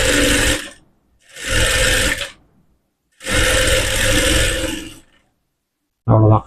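A sewing machine stitches umbrella fabric in three loud bursts separated by short pauses, with a brief clunk at the end.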